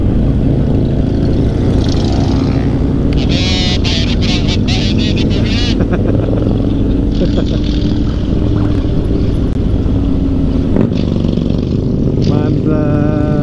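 A big touring motorcycle on a road trip to Bali revs its engine hard, with a loud, steady roar and rising throttle blips that stay close throughout, broken by wind noise, while a rider speaks over it.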